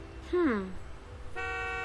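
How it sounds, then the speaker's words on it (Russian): Car horns honk in the Nancy Drew video game, one toot with a falling pitch and then a second sustained blast, loud and close. "Ой, все сигналят, все сигналят."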